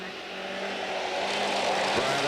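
A rally car, the course-opening car at the Tall Pines rally in 1989, approaches along a forest stage. Its engine note builds steadily and grows louder as the car nears.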